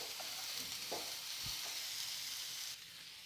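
Onions and sliced green chillies frying in a pan, a faint, steady hiss of sizzling with a few soft stirring knocks, close and quiet with no voices.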